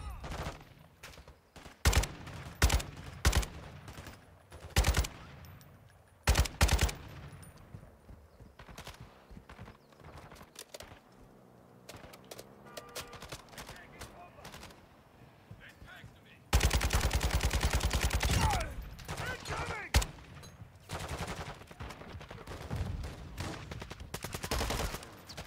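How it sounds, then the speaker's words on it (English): Bursts of gunfire in Call of Duty Warzone 2.0 DMZ as a squad shoots at a helicopter: scattered single shots and short volleys, then a long, loud sustained stretch of firing near the end. "it's a six-man squad shooting at the helo"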